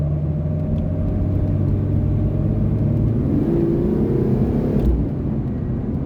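A 2003 Mustang's engine drones loudly from inside the cabin, a steady low rumble that climbs in pitch and then drops sharply as the car shifts gears hard.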